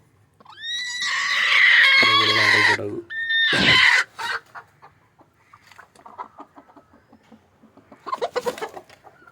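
Native country chickens cluck and squawk nearby, starting with a couple of loud drawn-out calls, then trailing into a scatter of short, quieter clucks.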